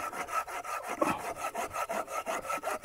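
A Tajima G SAW 210 folding pruning saw with a 20 cm blade cuts through a tree branch in steady, even back-and-forth strokes, a close rasping rhythm repeating about every quarter second.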